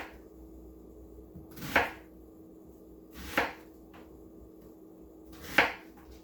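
Three separate knife chops through a large onion on a cutting board, each a crisp, close thud roughly a second or two apart, over a quiet background hum.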